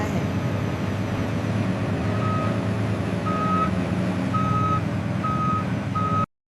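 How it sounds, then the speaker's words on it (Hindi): A motor grader works on a road, its deep engine rumble running steadily as a truck-style reversing alarm beeps at regular intervals over it, loud and close throughout. "यह है मोटर ग्रेडर। यह रोड को सीधा और लेवल करता है।"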